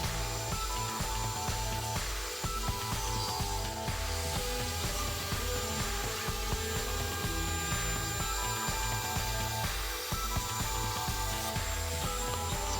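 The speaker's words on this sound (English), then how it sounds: "here we are cutting out some damaged drywall on the ceiling to patch it up" A Ryobi speed saw cuts through half-inch drywall on a ceiling, producing a dense, steady high-pitched grinding whir with a rough pulsing undertone that continues without pause for the whole stretch.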